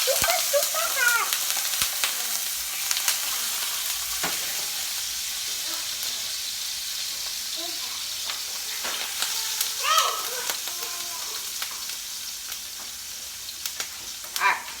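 Minced garlic and ginger frying in a pan, with a constant hiss and crackle of sizzling and occasional clinks and scrapes of stirring, close up and moderate in level.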